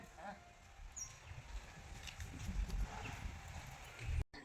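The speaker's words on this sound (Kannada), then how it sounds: "ಎಮ್ಮೆ ಎಮ್ಮೆ ಬಂದವ್ರೆ" Buffaloes walk past at dawn, their hooves thudding softly on the ground amid faint rustling and distant birds, with quiet talk nearby.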